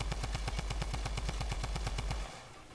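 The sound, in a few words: gunfire from a weapon in a video game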